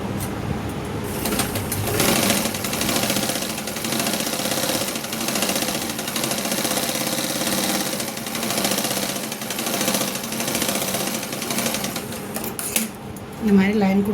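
A sewing machine stitching a blouse lining runs in fast, even bursts of rapid needle clatter, close and loud, while someone talks over it.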